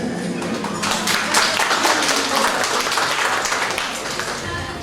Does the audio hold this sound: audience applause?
yes